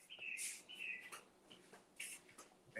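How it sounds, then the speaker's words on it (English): Faint, high chirps from small birds, several short calls spaced across a quiet background. "I hear birds."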